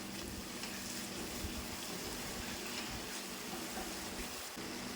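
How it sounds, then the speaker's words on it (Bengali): Tomato and spice masala sautéing in a pan makes a continuous, even sizzle with a low background hum, steady throughout and heard alone. "মশলাটা ভালো করে কষাতে হবে যতক্ষণ টমেটোর কাঁচা গন্ধটা না যায়"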